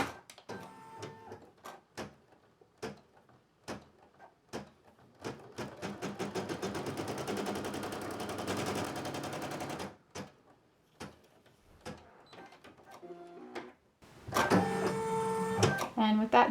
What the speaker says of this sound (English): I'm going to run the tack down stitch